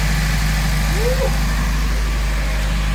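Turbocharged K-series engine in an Acura RSX idling steadily with a low constant rumble, a brief rising whistle partway through, and people talking faintly nearby.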